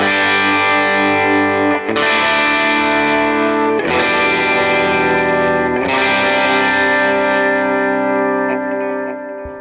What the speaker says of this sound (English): So maybe turn your reverb on, delay on, and do big strokes.